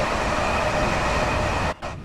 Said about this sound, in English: There goes another train there.